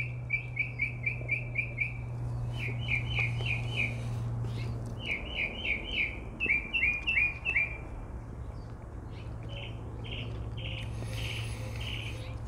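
Birds chirping outdoors in quick repeated bursts of bright tweets, a series of rapid phrases over a low steady hum, fairly near and without talk.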